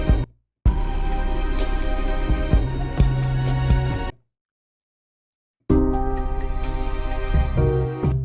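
Original soundtrack passage with a steady pulsing rhythm of soft wooden knocks or conga-like hits over sustained instrumental layers, dropping to silence for about a second and a half before the music and beat return.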